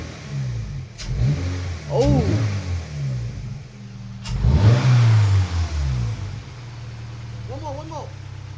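Toyota GR86 fitted with a GR Cup intake, engine blipped up toward 4000 rpm in a few sharp revs that rise and fall, close and loud, with a steady idle between pushes and brief talk over it.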